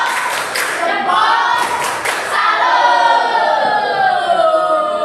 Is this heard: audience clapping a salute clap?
yes